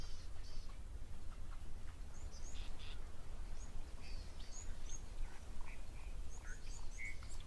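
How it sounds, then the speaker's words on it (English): Southern black tit calls at a waterhole: short, thin chirps and whistled notes repeat at irregular intervals over a steady background of ambient outdoor noise, with no talking. "Oh, I just heard a southern black tit."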